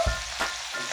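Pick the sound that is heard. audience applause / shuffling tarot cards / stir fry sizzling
stir fry sizzling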